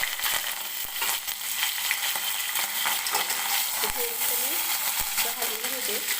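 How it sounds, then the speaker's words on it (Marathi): Cumin, garlic and curry leaves sizzle in hot oil for a dal tadka, a dense steady crackle with a few spoon scrapes and clinks against the pan, while someone talks over it. "तर आता मी याच्यामध्ये टाकून घेते जिरं, लसूण टाकायचं आहे, कढीपत्त्याची पानं"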